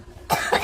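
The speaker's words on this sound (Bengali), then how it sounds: "সিরাপ খাওয়ায় তারপরেও কাশি কমে না" A woman gives a single harsh cough with a quick second burst, close and fairly loud after a brief quiet moment.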